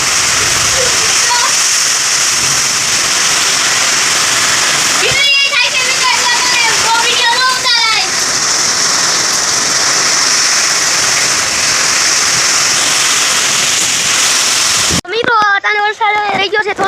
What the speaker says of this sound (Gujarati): આ પવન આવે ફૂલ વરસાદ આવ્યો છે